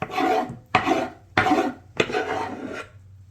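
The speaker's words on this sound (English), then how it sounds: "we're going to scrape using the back of your knife so that you don't dull your blade" Back of a kitchen knife scraping chopped food across a wooden cutting board in four loud, rasping strokes, each a short rhythmic sweep with brief pauses between, close up and without talk.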